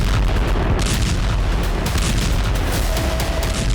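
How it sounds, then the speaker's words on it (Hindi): Heavy, continuous rumbling from explosions during drone strikes on a Russian air base, with a dense run of booming blasts and sharp bursts layered over a constant low roar, loud and reverberant. "जोरदार धमाके के साथ उठता बारूद से सना धुआं और आग का गुबार"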